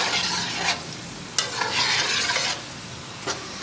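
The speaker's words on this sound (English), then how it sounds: "We're going to fry these until they're very nicely golden brown." Belgian fries sizzle steadily in hot oil, a loud, dense crackle broken by occasional sharper pops as they are stirred.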